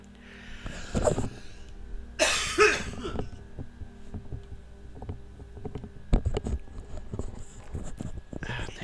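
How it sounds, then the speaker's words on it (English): A few sharp coughs close by, separated by quiet stretches with faint rustling and small knocks in the background. "I should have just took a drink instead of coughing."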